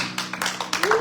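In a church service, a congregation claps for the fathers in several quick uneven bursts, fairly close, while a bright sustained tone rises near the end.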